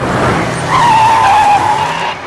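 A car skids hard to a sudden stop, its tires squealing in a loud, sustained screech for about a second over engine rumble. No one speaks during it.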